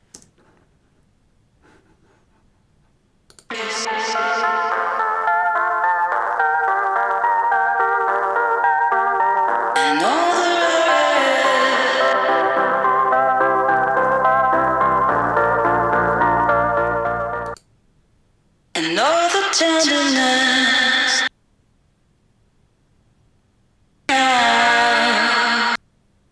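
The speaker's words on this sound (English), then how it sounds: "it's supposed to sound like it's cut up, like you put a scissor to a tape, right?" Danish indie remix built from rough cut-up, tape-style edits: loud dense musical passages stopping abruptly, with silent gaps and short chopped bursts starting and ending sharply, no talking.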